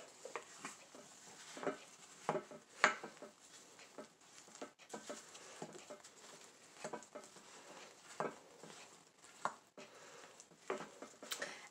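A wooden spoon stirs a cherry and pistachio fluff salad in a bowl, giving soft, wet, irregular scrapes and squelches, close and quiet, with scattered sharper knocks.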